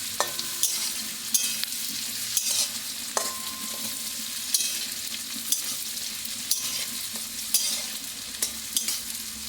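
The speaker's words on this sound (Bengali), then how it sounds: "এবারে সব কটা দিয়ে আরেকবার একটু নাড়িয়ে চাড়িয়ে নিচ্ছি।" A bay leaf and panch phoron spices fry in a pan for veg dal as a spoon stirs them, with a steady low sizzle under repeated light scraping strokes and occasional sharp taps.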